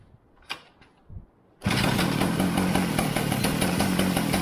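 A go-kart engine starts up after a few soft knocks and then idles loudly and steadily close by with a rough, buzzing putter.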